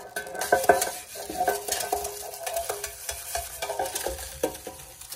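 Butter being worked by hand around a pan for banana bread, giving soft wet squishing and smearing sounds with light clinks of metal, continuous and close with small bursts of louder handling.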